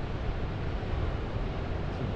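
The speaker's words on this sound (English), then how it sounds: "you can really hear the ocean" Ocean surf rolls beyond the dunes on the Oregon coast, a steady, soft wash of breaking waves heard from a distance with no voices.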